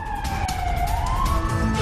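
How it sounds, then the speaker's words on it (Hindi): An air raid siren wails over Kyiv, a loud sustained tone that slowly dips and rises again, filling the street with constant low background rumble. "कीव पर एयर स्ट्राइक का अलर्ट जारी किया गया है, सायरन वहां पर लगातार बज रहे हैं।"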